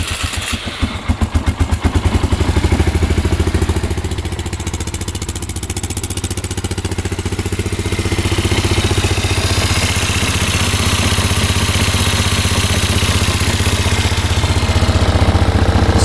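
A plowing ATV with all-wheel drive fires up with a rough clattering start, then settles into a steady, loud engine idle that runs close and continuous throughout.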